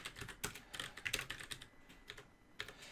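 Quick bursts of keystrokes clatter on a computer keyboard, an uneven run of close, soft clicks with short pauses between groups and one last flurry at the end, with no voices.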